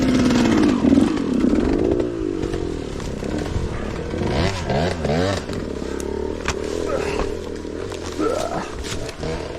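A dirt bike engine revs hard in repeated rising and falling bursts, loud and close, with people talking over it.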